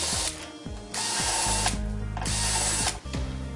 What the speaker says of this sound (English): Drill the pilot hole.